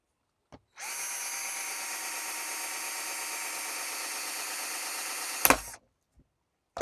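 A power drill whines steadily for several seconds at close range while drilling a metal mounting bracket, then stops with a sharp clatter of metal.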